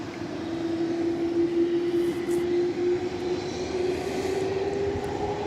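UPS Boeing 767 heavy jet taking off from runway 18 left at Dallas/Fort Worth airport in the evening, a steady loud engine roar with a sustained tonal whine, continuous and fairly close throughout.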